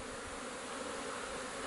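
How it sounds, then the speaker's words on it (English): Honey bees drone steadily at the entrance of a new nucleus hive, a dense, continuous buzz of many insects filling the clip with no pauses. "there's not near as many bees coming in and out"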